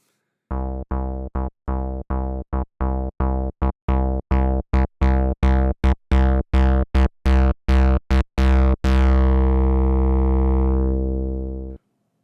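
A harmonically rich, buzzy synth tone repeats in short stabs that speed up, then settles into one long sustained note that fades out.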